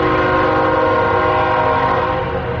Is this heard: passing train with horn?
yes